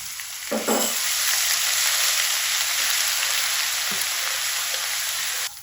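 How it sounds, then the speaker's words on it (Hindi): Ginger garlic paste frying in a pan for dal, a loud, dense, continuous sizzle close by that holds steady and cuts off abruptly at the end. "अब यहाँ पे अदरक लहसुन का पेस्ट 1 खाने का बड़ा चम्मच डाल देंगे। इसको आपने जलाना नहीं है, हल्का सा इसको कलर देंगे ब्राउन।"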